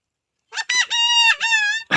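A voice imitates a rooster crowing, a drawn-out nasal call in several segments, close and loud, ending with a short burst.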